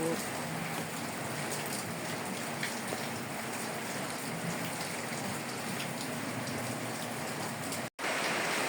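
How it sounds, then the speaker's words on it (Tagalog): Light rain falls during a typhoon in Bulacan, a steady, even hiss of drops on surfaces, moderately faint and unbroken, with a brief dropout near the end. "Hindi naman siya ganong malakas ang ulan."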